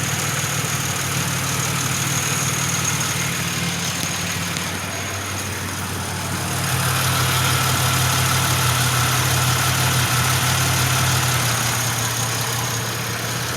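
A Pontiac Grand Prix engine idles steadily with a low, even hum, then its revs sag noticeably as it begins to stall, and the tone shifts near the middle before settling.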